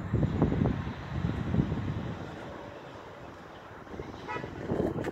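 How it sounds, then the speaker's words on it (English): A distant car horn honks briefly amid steady traffic rumble and wind noise on a busy street. "A car on that side honked?"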